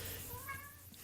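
A pet cat gives a single short, faint meow rising over a steady low room hum, fairly distant and brief, with no talking.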